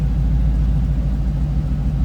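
A 1985 Chevrolet C10 Silverado's 5.3 liter V8 with aluminum heads and a full roller setup idles loud and close, a steady low rumble with a slight throb and no voices.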